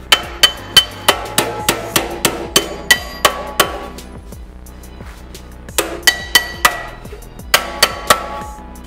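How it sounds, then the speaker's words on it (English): A body hammer strikes the flange of a 1967 Mustang fender apron flat against metal, loud ringing blows in quick bursts of about a dozen, pausing midway before two more short runs. "So I'm gonna set it down and hammer it flat onto itself."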